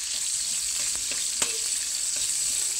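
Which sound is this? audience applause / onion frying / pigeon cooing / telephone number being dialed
onion frying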